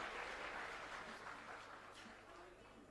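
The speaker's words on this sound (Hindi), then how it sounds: "एक बार जोरदार तालियों से आइए स्वागत करें" Applause from an audience at a school inauguration ceremony in Delhi, a dense steady wash of clapping that fades slightly over a few seconds.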